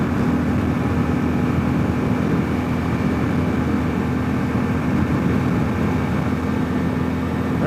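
A 2022 Kawasaki KLR650 Adventure with a 16-tooth front sprocket cruising at highway speed around 5,000 RPM, a constant loud engine drone mixed with heavy wind rush, steady throughout with no voices.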